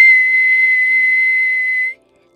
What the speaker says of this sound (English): got everyone's attention with his whistle